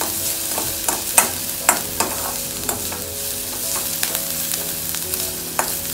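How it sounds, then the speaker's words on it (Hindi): Vegetables sizzle steadily in a pan for veg hot and sour soup while a spoon stirs them, producing repeated scraping clicks over the continuous frying hiss. "हल्का सी फ्राई होने देते हैं"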